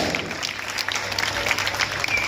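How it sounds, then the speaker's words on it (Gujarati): Steady applause from an audience at a taluka-level school science fair, honoring a winning project: dense, continuous clapping close by that holds at an even loudness for a couple of seconds, with no voices over it. "ફરી એકવાર જોરદાર તાળીઓથી આપણે આ કૃતિને વધાવી લઈશું"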